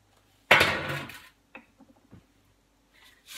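Kale crisps tipped into a bowl make a sharp clattering rustle, then a few light clinks and taps follow, close and otherwise quiet.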